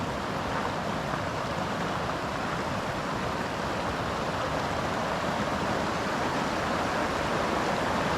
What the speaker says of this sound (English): Oh, I can already hear waterfall.